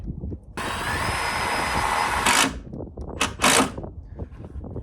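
A power drill drives self-tapping metal screws into the door frame of a shuttle bus conversion, with one sustained whirring run followed by two short bursts, over a background of clattering handling noise.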